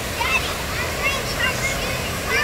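A Hawaiian waterfall pours in a steady broadband rush of falling water, close and continuous, with voices talking over it.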